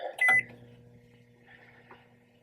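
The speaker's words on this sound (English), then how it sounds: "The microwave is running and is operational." Microwave oven running off an inverter powered by a car, a short loud beep-like burst followed by a steady low electrical hum, close and alone.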